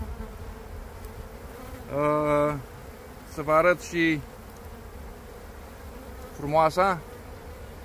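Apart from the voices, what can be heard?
honey bees buzzing at a beehive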